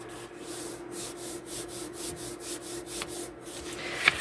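Paper is folded and creased by hand into a cash envelope, a soft, close run of rhythmic rubbing strokes with a faint tap near the end.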